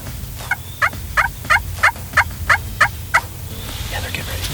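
Wild turkey gobblers call during a spring hunt in a rapid run of about eight loud, rhythmic gobbling bursts close by, with fainter calls trailing off at the end over low outdoor background noise.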